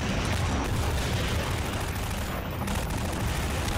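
Sustained gunfire from the Half-Life 2 video game, dense and continuous with loud, rapid overlapping shots and rumbling blasts filling the whole stretch without a break.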